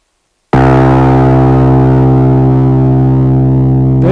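A steel piano string rings out as a single sustained note with a rich stack of slightly inharmonic overtones, starting abruptly after a brief silence and holding loud and steady to the end.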